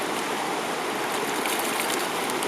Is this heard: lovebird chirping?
no